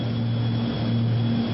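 Steady drone of a propeller airplane in flight over vast soybean farmland in Brazil, a loud continuous engine hum with no breaks and no voices.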